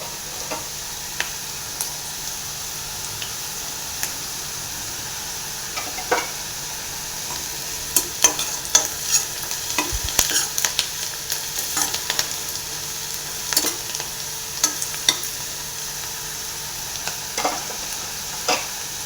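Onions frying in a pan for a chickpea curry, with a steady sizzle running throughout and irregular stirring scrapes that grow busier in the second half; no one speaks.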